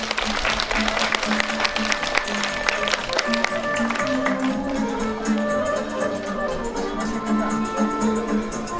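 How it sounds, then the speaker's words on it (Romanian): Audience applause at a village celebration of Mărgineni with an anniversary award, a dense sustained round of clapping that gradually thins, mixed with faint crowd murmur. "încurajăm cu aplauze, domnilor și domnilor!"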